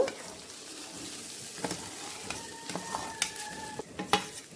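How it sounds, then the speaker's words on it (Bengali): Raw rice for a pulao being stir-fried in oil with green chillies and ground pepper. A close, moderately quiet low sizzle runs under irregular spoon scrapes and sharp clinks against the pot, with no voices. "এবার চালটাকে ভালো করে তেলের সাথে ভেজে নেব"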